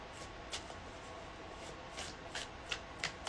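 Major Arcana tarot cards being shuffled by hand, a steady papery riffling with a few sharper snaps of cards toward the end, close and fairly quiet.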